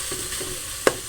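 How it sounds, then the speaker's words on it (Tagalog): Pesang dalag, a fish soup, boils in a pot with a steady bubbling hiss and a single sharp clink near the end. "kumukulo na ang ating pesa"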